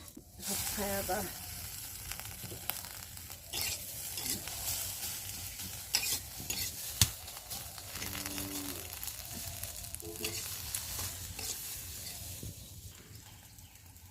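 Red amaranth greens fry in oil with onion, garlic and chili, giving a soft, low sizzle with intermittent stirring scrapes, fairly quiet and close, while a voice speaks briefly now and then.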